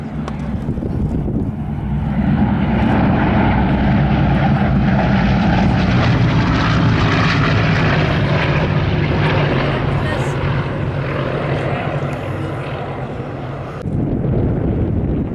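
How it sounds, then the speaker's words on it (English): B-29 Superfortress FIFI, a four-engine propeller bomber, flying past at a World War 2 air show, its deep droning roar swelling loud then fading, with wind buffeting the microphone. "here comes FIFI, the B29 Super Fortress."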